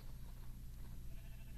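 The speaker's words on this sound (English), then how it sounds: "Oh, look at these sheepy sheep." Sheep bleating in the Minecraft video game, faint short bleats heard over a steady low hum and background noise, with no talking.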